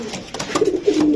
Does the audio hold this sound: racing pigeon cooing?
yes